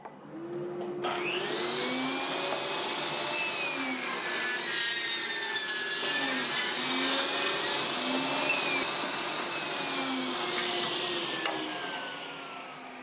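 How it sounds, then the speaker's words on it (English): A sawdust collector roars steadily in a wood shop while a table saw cuts wood for beehive brood frames, its pitch rising and falling with each cut over the constant whine of the blower. "Turn the sawdust collector on, make some noise."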